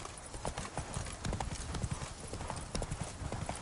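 Galloping horse hooves in the video game The Witcher 3, a fast, steady clatter of hoofbeats close up over a dense game soundscape.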